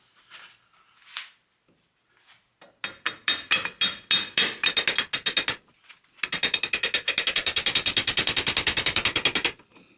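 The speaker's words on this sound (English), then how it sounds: "we'll just try tapping on it" Metal tapping on a 1956 VW steering box during a rebuild: two bursts of rapid, evenly spaced sharp knocks, the second faster and denser, loud and close with no talk.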